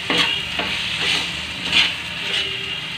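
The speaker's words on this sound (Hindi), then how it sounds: "1 मिनट बस भूनेंगे 1 मिनट के लिए।" Tomato ketchup pasta sauce stirred and fried in a pan, giving a close, continuous sizzle with soft scraping strokes of a spoon repeating every half second or so, no voices.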